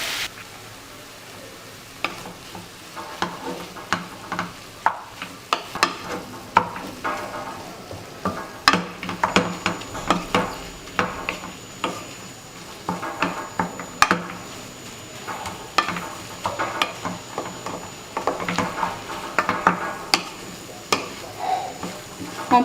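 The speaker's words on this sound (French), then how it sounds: "On ajoute les épices et on essaye de bien mélanger afin que la viande" Spiced ground meat being stirred in a pan, a spoon scraping and clinking repeatedly against the metal over a steady soft sizzle of frying, close and fairly quiet, with no talk.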